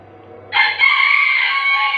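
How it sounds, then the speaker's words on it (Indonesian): A rooster crows loudly and close, one long sustained call starting after a brief quiet moment and holding to the end. "jamnya udah berkokok kenceng banget"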